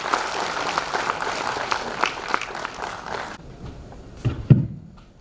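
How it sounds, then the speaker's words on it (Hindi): A crowd at an honours ceremony breaks into steady, loud applause to welcome the director, holding for about three seconds before cutting off abruptly and giving way to a few scattered thumps and rustles. "जोरदार तालियों से सबका स्वागत कीजिए।"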